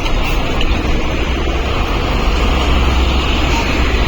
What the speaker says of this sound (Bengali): এই যে কি পরিমাণে কন্টেনার আর বাস এই রাস্তায় রাতের বেলা চলাচল করে